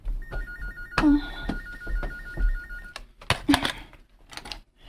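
A cellphone rings indoors in a drama scene: a bright electronic ringtone trills for about three seconds, then stops amid a few sharp knocks and clatters nearby.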